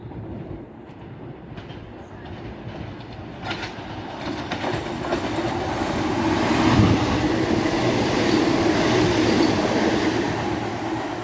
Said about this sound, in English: Now coming through is a ScotRail Class 170.